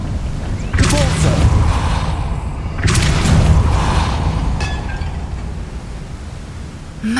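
Two forceful Depulso spell blasts in Hogwarts Legacy burst out a couple of seconds apart, each a loud rushing boom that lingers and then dies away.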